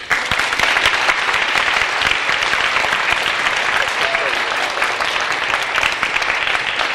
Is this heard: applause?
yes